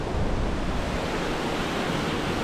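A clear brook in the Peak District flows in a steady, close rush of water, a continuous broadband hiss and gurgle with no pauses and no voices.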